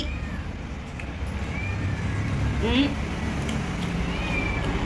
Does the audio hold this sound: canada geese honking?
no